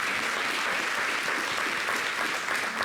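A television studio audience claps loudly and steadily, a dense wash of applause that holds evenly from start to finish.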